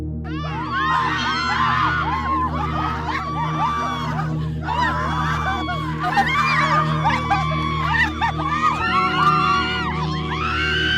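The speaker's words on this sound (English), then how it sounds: "You hear the screams and the cries of the innocent ones you took their life." Screams and anguished cries from several people in a Nigerian drama, a continuous chorus of wailing voices that stays loud and crowded from start to finish.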